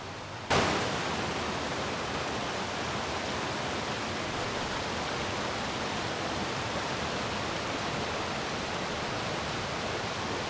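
A small cascade on Rock Run creek pours in a steady, close rush of water that starts abruptly and holds an even, full hiss to the end.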